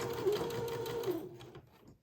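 A sewing machine stitching entredeux beading onto French lace edging runs in a steady, quiet whirr for just over a second, then slows and stops; no voices.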